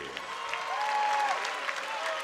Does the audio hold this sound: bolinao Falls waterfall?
no